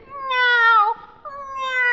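A voice imitates a cat meowing, giving two drawn-out, close, clear mews with a short pause between them.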